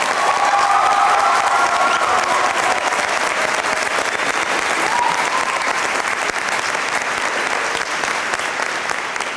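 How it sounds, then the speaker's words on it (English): A graduation audience applauds the teachers at a high school ceremony, with dense, sustained clapping from a large crowd filling the hall at an even level throughout. "Students, please give your teachers one final round of applause."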